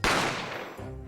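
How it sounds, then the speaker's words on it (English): A single sharp gunshot effect cracks out in The Great Ace Attorney Chronicles, with a loud sudden onset and a short decaying tail, followed by a brief low after-sound. "I didn't have time to think about where the sound of the gunshot had come from"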